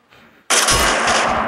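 Heavy automatic gunfire in the battle royale game Free Fire bursts in suddenly after a quiet moment, a loud continuous rattle of rapid shots that fills the rest of the clip.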